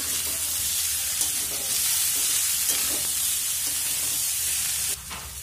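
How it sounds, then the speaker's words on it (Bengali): Mixed vegetables frying in a pan, a loud, dense, unbroken sizzle with faint stirring underneath, close up, easing off slightly near the end. "এবার সব সবজিগুলো ভালো মতো নেড়ে চেড়ে বেশ কিছুক্ষণ ধরে ভেজে নিতে হবে"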